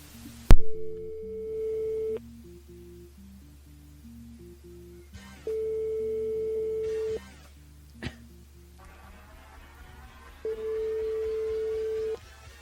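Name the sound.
telephone line tones while placing a radio call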